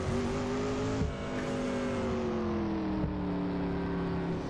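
Group C race cars in a racing video game driving through rain, a loud, steady engine drone holding high revs with a couple of brief gear-change dips, spray hiss beneath, no voices.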